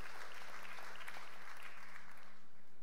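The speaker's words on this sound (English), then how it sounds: "I ain't got time for clapping." An audience applauds, a dense, even wash of clapping at moderate distance that holds steady and begins to fade near the end.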